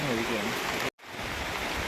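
Steady hissing rain in the Ambanad hills, Kollam, Kerala, briefly cutting out for a moment before resuming at the same even level.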